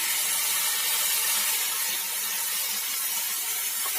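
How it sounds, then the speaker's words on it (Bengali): Ground poppy seed water poured into a simmering sour dal with drumsticks, potato and mango, a steady bright hiss and gush of liquid held at an even level for a few seconds. "এর মধ্যেই পোস্ত বাটা জলটা দিয়ে দেবো।"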